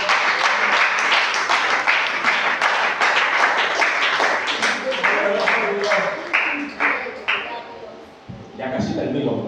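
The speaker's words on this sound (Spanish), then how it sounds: "Damos un aplauso a Cristo." A church youth congregation breaks into loud, dense applause, many hands clapping steadily together up close, then thinning out and fading toward the end.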